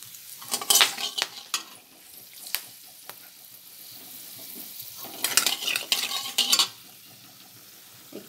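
Whole garam masala crackling in hot oil as a tempering, with two loud bursts of sizzling and metal spatula clinks against the pan, separated by a quieter stretch of faint frying.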